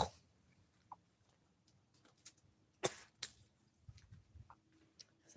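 Two sharp, harsh coughs from someone smoking pot, close and fairly loud, land around the middle of a quiet stretch, with a few faint clicks and small noises before and after.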